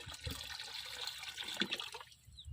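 Liquid is poured into a 250 ml bottle while a bio-enhancer is prepared on a rural Kolhapur farm in Maharashtra. The splashing and trickling pour runs steadily for about two seconds, then thins to a brief dribble at the end.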